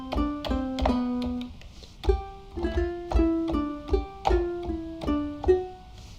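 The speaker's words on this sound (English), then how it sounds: "So the Ronroco is the kind of baritone version of the Charango" Ronroco, a baritone charango with doubled strings in octaves and unison, from the Andea sample library by Orchestral Tools playing sustained notes step by step, each plucked note ringing with bright tremolo shimmer at moderate volume.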